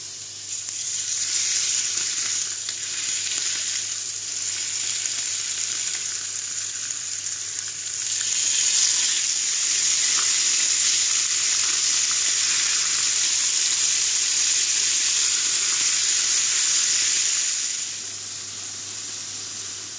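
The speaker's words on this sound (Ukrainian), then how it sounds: "І далі можна помішувати і тушкувати." Zucchini seasoned with paprika, Svan salt and rosemary sizzles steadily as it is stirred and stewed in a hot pan, a continuous close frying hiss that swells in the middle and runs on without any voices.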